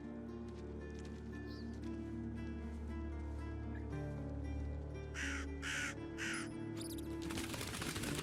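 Crows cawing through the night streets in The Blood of Dawnwalker, several sharp caws in bursts over steady low ambient hum, growing busier and louder toward the end.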